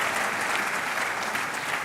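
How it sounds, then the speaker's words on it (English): Steady applause from an audience, a continuous wash of clapping that stays even throughout. "Clap for him. Clap for him."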